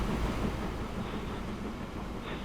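A train rolling into a station in Transport Fever 2, a low steady rumble of wheels and engine, quiet and even throughout with no talk.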